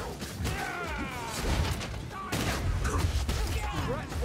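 Chaotic combat in Warhammer Vermintide on the Festering Ground level, with gun blasts, crashes and weapon impacts mixed under shouting character voices and battle noise, loud and busy throughout.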